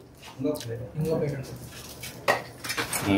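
Plates clink and clatter softly at a roadside dosa stall in Peddapuram where Chittoor-style dosas are being made, with several light knocks and scrapes over busy background murmur.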